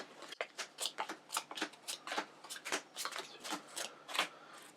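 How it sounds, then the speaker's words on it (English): A deck of Pax Pamir board game cards being riffle-shuffled repeatedly, crisp fluttering bursts in a quick steady rhythm, close and fairly quiet, no voices. "all our cards, give them a shuffle"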